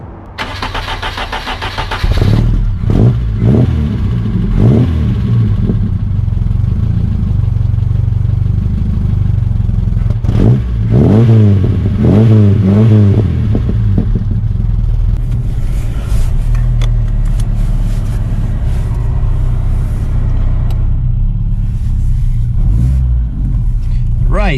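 A 1986 Ford Capri with a 2.0 Pinto engine cranks, starts, and then rumbles loudly at idle and through revs as it drives off, the engine note rising and falling, with someone talking over it.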